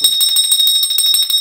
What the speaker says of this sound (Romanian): poți suna oricând din acest clopoțel și noi vom veni să te ajutăm